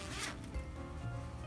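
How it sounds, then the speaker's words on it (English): A side zipper on a shiny purple crocodile-textured binder with a stiff insert is pulled in one quick, close zip, a brief rasping run lasting about a second. "And this one has a side zipper"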